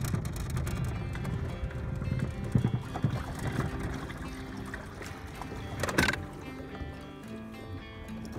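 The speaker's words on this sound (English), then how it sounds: "today we're on Skytook and launching the boat right now" Water sloshing and knocking against a boat hull as the boat is launched on a calm lake, with muffled thumps and a sharp clunk midway, close by and fairly quiet.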